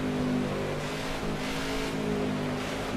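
Race car engines roar steadily during a NASCAR '15 video game race at New Hampshire, a continuous loud drone as a car approaches on the low side, with no talking.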